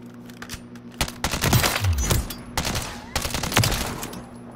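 The WSP9 firing in Call of Duty comes in quick rapid-fire bursts of sharp, close shots, separated by brief pauses. A low electronic hum sits underneath, and no one talks over it.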